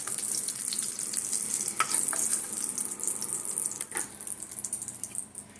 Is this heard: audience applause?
no